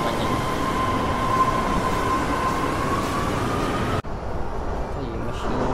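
A train pulls into a station in Japan, a loud continuous rumble with a faint tonal whine that ends in a sharp clunk, followed by quieter station ambience.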